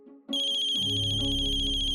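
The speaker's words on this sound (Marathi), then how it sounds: "कुणाचा फोन येतो ती तर बघू" A mobile phone ringtone sounds in a domestic scene from a Marathi TV serial, starting abruptly after a brief moment and repeating a loud, steady electronic melody close by with no voices over it.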